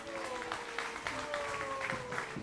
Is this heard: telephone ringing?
no